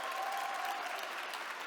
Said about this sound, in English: let's give one final round of applause for this extraordinary group of people